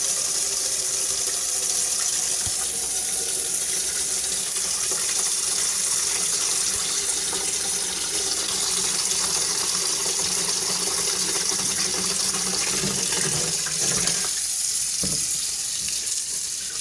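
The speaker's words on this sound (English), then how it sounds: "I'm gonna put some water in there." Tap water runs from a kitchen faucet into a cooking pot for a hambone stew, a steady close splashing gush that continues throughout and changes slightly in pitch near the end as the pot fills.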